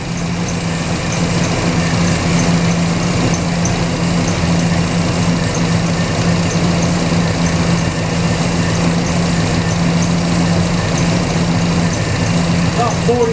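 A Pontiac GTO engine idles steadily at close range, a continuous even rumble with a constant hum that holds throughout without revving.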